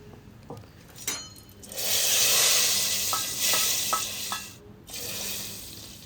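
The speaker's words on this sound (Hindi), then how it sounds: "तड़के के लिए प्याज फ्राई कर लेते हैं।" Onions frying in hot oil for a tadka for chicken haleem give a bright, loud sizzle that surges, fades briefly, then returns, with a few light clinks of a utensil against the pan.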